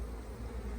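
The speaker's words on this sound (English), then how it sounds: "Lots of excited bees." Honey bees buzzing at an opened hive during an apiary inspection, a dense, continuous low hum of many insects close by, with no talk.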